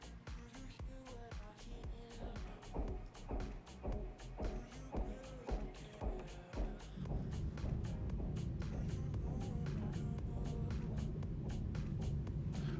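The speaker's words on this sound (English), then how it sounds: "Oh, it's still clunking, and that tells you it's still pulling? Is that what that noise means?" A mining ship in EVE Online, pulling in ore near a moon mining beacon, gives off a steady run of evenly spaced, faint mechanical clunks that then blend into a continuous low rumble.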